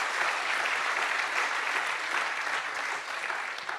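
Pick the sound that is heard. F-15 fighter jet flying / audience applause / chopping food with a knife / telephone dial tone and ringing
audience applause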